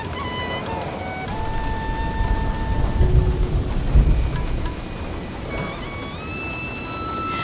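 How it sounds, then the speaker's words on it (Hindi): Thunderstorm with strong gusting wind and heavy rain pouring steadily, low rumbling thunder swelling near the middle, with faint tonal background music running throughout. "काले बादल छा गए और तेज आंधी के साथ भारी बारिश शुरू हो गई"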